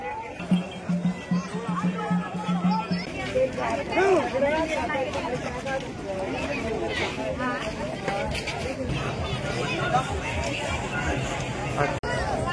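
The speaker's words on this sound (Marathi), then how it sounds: "गडाच्या जवळ आल्यानंतर खूप सारी गर्दी झालेली आहे" A large crowd of people gathered near a hill fort, a steady hubbub of many overlapping voices and footsteps filling the outdoor space, with someone narrating over the din.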